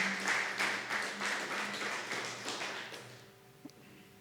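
A church congregation applauding during a Sunday sermon, a fairly faint spread of rhythmic clapping from many hands that thins out and fades after about three seconds, with no talk over it.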